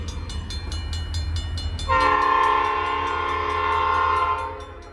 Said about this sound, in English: the train's getting ready to come up to the crossing